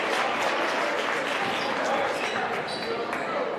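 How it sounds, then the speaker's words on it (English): A crowd at a high school varsity basketball game gives a steady ovation, a dense wash of applause and cheering that is fairly loud and continuous throughout. "He'll take a rest to a well-deserved ovation from the St. Christopher's crowd."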